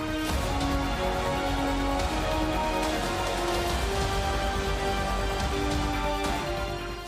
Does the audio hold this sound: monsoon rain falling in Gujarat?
yes